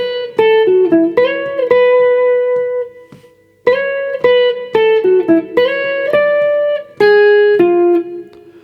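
Guitar plays the intro solo of a song, a clean melodic line of plucked and slid notes in two phrases separated by a short pause, loud and alone.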